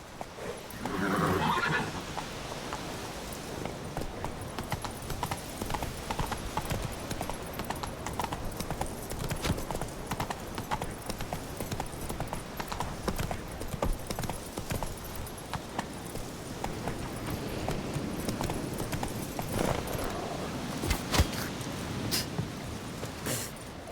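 Horse hooves in The Witcher 3 pound out a steady, continuous rhythm close by, with a short whinny near the start and faint ambient noise underneath.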